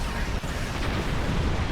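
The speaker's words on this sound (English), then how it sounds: "I'm gonna fly right into the explosion." An explosion in the space game Star Trek Online, heard as a dense, sustained roaring rumble that fills the whole short moment without a clear start or end.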